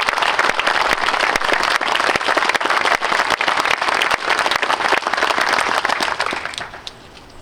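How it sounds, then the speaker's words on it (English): A crowd at an outdoor Purple Heart Day ceremony gives sustained applause for surviving family members, loud dense clapping for about six seconds before it quickly dies away. "If we could just have a round of applause for them,"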